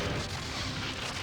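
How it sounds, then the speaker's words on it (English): Weapons fire from a Borg cube in the Star Trek Borg video game, a short dull booming burst of blasts, fairly faint, with no voices. "The Borg cube is firing."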